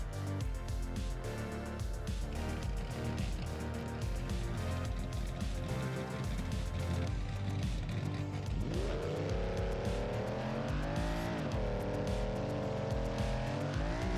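Classic camouflage Jeep racing off-road in a Baja desert course in BeamNG Drive, engine droning steadily, then climbing in pitch through gear changes as it accelerates hard, loud and close throughout.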